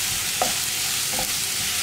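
Sliced onions sizzle in coconut oil while being stirred, a steady close frying hiss with a couple of soft utensil scrapes, no voices.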